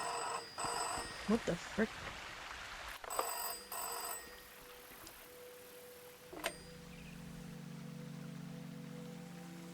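Telephone ringing in a video game, with bursts of an old bell-type ring over a rainy ambience and a person speaking briefly, followed by a lingering tone.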